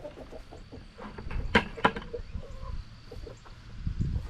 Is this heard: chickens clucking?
yes